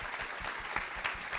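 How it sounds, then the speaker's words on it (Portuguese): A crowd at an event for the EITA Recife squad applauds, producing a brief stretch of continuous, fairly faint, dense clapping with a few sharper claps standing out. "eu queria pedir uma salva de palmas a toda essa galera aí"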